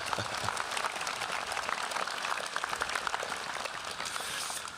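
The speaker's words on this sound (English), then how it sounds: "Clap right there, too." A commencement audience claps together in a sustained, dense burst of applause, steady and fairly loud throughout with no voices over it.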